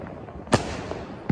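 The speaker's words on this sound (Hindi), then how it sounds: "तो अमृतसर में काफी अच्छे दिवाली मना रहे हैं लोग, काफी ज्यादा पटाखे चल रहे हैं।" A single sharp Diwali firecracker bang in Amritsar, close and brief, rising out of a dense background of crackling, popping fireworks at a distance.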